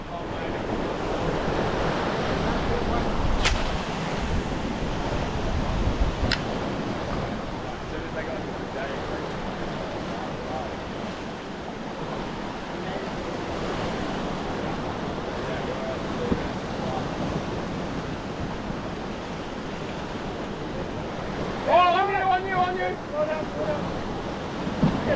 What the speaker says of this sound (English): The waves are quite loud.